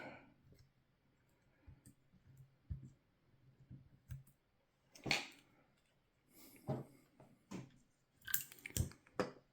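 Sellotape being tugged and peeled off a roll while unboxing a Heljan O gauge Class 26 model locomotive, heard as quiet, irregular clicks and short crackling rips that grow louder near the end, with no talking.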